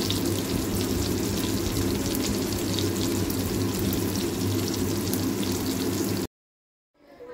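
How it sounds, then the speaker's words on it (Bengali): Fish frying in hot oil give a steady, loud sizzling hiss that runs continuously for about six seconds, then cuts to near silence before a faint return. "মাছগুলিকে ভেজে নিই।"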